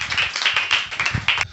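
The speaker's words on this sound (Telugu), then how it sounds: "చప్పట్లు కొడదాం." A congregation at a Telugu Christian prayer meeting bursts into brisk, dense clapping, a short burst of many hands applauding together close by.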